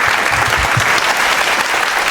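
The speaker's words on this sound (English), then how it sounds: "Big round of applause for that." Applause from the audience at an Indian Hall of Fame awards dinner in Singapore, a dense, loud and continuous roar of clapping from a large crowd throughout.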